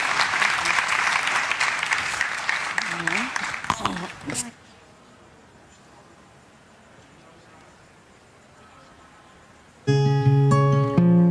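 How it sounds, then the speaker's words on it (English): Audience at a European development conference debate applauding the first panelists, a strong burst of clapping that stops abruptly at about four seconds, followed by quiet and then a loud musical tone. "Please give a hand of applause to our first three panelists."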